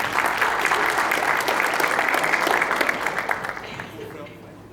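A conference audience in Brazil applauds for several seconds, dense steady clapping that thins and fades out at the end.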